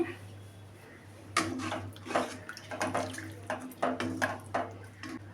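Water being poured into a pan of tamarind masala curry for stuffed brinjal (gutti vankaya) and stirred in, with a run of clattering, splashing bursts over a steady low hum.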